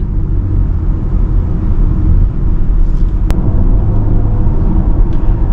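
A 2023 BMW iX M60i electric SUV accelerates onto a highway, giving a steady, close, low road rumble and tyre noise inside the cabin with no engine note, continuous throughout and no talking.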